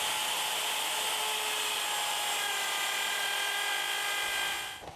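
A Bosch power tool cuts through the leg of a wooden workbench, a loud continuous high-pitched cutting whine that holds steady for several seconds before it begins to fade.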